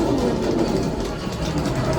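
A low, steady mechanical rumble like a passing train, loud and continuous, with a heavy engine-like drone throughout, from a train sound effect on the Millennium Falcon: Smugglers Run ride at Disney's Hollywood Studios.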